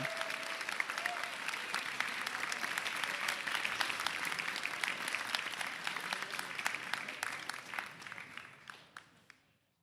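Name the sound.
applause for the first-place winners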